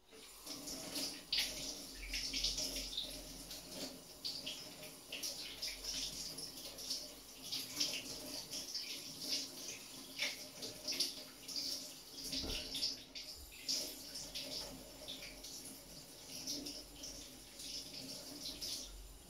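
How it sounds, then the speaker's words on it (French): Tap water runs into a kitchen sink while knives and hands sticky from kiwi are washed, a continuous close splashing and rushing with small clatters and shifting spray. "Il faut que j'aille laver mes couteaux et mes mains avec."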